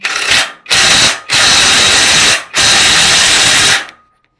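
Impact wrench tightening with a cheap APR CrMo socket, heard as four loud, close hammering bursts. The first is brief and the later ones run about a second each, with short gaps between them.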